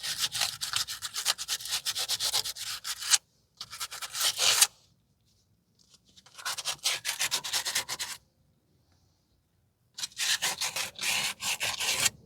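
Hand sanding with 80 grit coarse aluminum oxide sandpaper during rear brake work on a 2010 Toyota Corolla 1.8: rapid rhythmic back-and-forth scraping strokes, close and loud, in four bursts separated by silent pauses.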